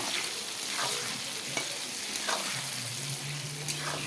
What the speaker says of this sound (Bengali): তেলের মধ্যে তেজপাতা আর কুচানো পেঁয়াজগুলো দিয়ে দিলাম। পেঁয়াজগুলো একটু ভেজে নেব